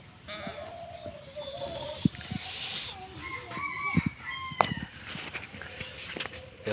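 A young watercock, or kora bird, kept in captivity, gives a series of clucking, fowl-like calls at moderate distance, interspersed with sharp knocks and rustles over a faint background.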